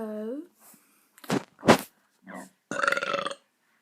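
A person's burp, heard close and loud in several bursts across a few seconds, ending in one long, drawn-out belch.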